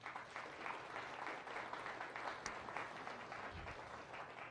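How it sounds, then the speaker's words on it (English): A science café audience gives a round of applause honoring a volunteer conservationist; steady, dense clapping fills the whole stretch at moderate distance, without talk. "I think that deserves some applause."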